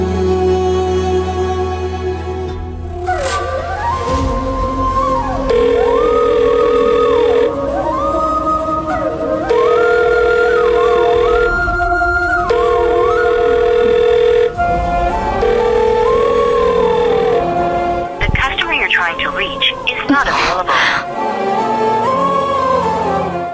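A telephone rings in a TV drama scene, with repeated ringback-style tones in regular bursts over a melodic backing, loud and continuous with no speech.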